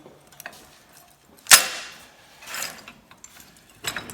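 Metal clanks and rattles as a loose gathering chain is pulled off a John Deere 40 Series corn head, with one sharp clack followed by lighter scattered chain rattles in a quiet setting.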